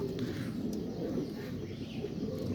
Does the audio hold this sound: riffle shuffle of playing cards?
no